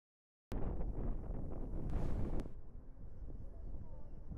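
Strong wind buffets the microphone at a lighthouse in Dingalan, Aurora, a steady loud roar with gusty rumble that starts abruptly and continues throughout.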